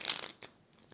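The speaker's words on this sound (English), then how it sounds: "One more shuffle." Tarot cards being shuffled during a reading, a brief close riffle of crisp paper snaps followed by a couple of soft slaps, with no voice.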